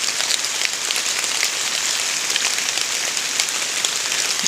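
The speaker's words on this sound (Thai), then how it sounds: "โอ้ฝนตกเด้อเจอฝนอีก" Steady rain falls and patters on surfaces outdoors, making a dense, even hiss with scattered individual drops and no voices.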